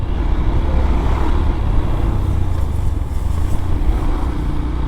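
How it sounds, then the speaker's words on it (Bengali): Heavy buses and trucks rumble past on a congested Bangladeshi road near a bridge, a steady loud low roar of traffic close by with no pauses, heard from a rider's position on a modified Yamaha R15 motorcycle. "এইখানে বাস ট্রাক চালনা করে"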